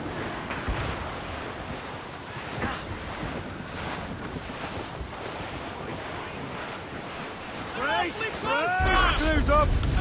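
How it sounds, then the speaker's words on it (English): Wind and ocean surf at sea aboard a sailing ship in the Assassin's Creed Rogue video game, a steady rushing roar of gusts and waves with voices talking over it and a louder swell near the end. "That wind's trouble"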